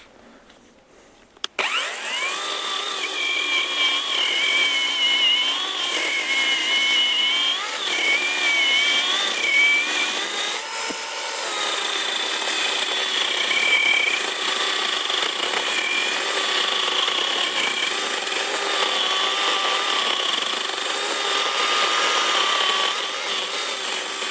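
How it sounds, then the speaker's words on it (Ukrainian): A ProCraft PKA 42li cordless chainsaw starts and bites into maple wood, a loud close motor whine that shifts in pitch as the load changes and runs unbroken for over twenty seconds. "Тепер прокрафтом пиляємо клен."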